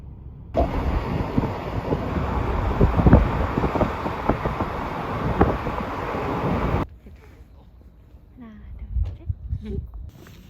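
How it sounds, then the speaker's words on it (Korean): Strong wind buffets the microphone outdoors with loud, rough broadband roaring for several seconds, then cuts off abruptly to quieter surroundings where voices are heard. "바람이 많이 불어요"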